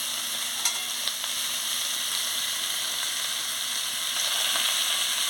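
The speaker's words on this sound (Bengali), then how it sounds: "দিয়ে ভালো করে নাড়িয়ে নিচ্ছি।" Pumpkin flowers, potatoes and other vegetables sizzle steadily in a pan while being stirred, a constant hissing fry close up with a couple of brief scraping clicks and no voices.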